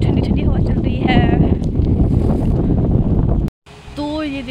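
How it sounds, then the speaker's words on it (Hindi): A cool breeze blows across the Panjab University campus in Chandigarh, a loud, rumbling wind buffeting the microphone under a voice talking, before an abrupt cut to quieter sound. "बहुत ठंडी ठंडी हवा चल रही है।"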